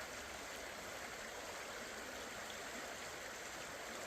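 Locust Creek in Tuscarora State Park, northeastern Pennsylvania, flows and ripples on its way down to the lake, a soft, steady, even rush heard faintly and alone.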